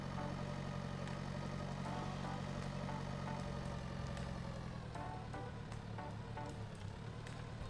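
A tractor's engine idles in the Pure Farming 2018 farming simulator, with a steady low droning rumble that is continuous and fairly quiet, broken now and then by faint clicks.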